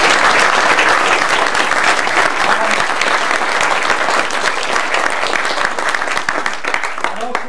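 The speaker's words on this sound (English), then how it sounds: "Jill and Neil, deserve a round of applause" Sustained audience applause for two technicians at a 2001 Q&A event with Howard Rheingold, dense clapping filling the room steadily and tapering slightly toward the end.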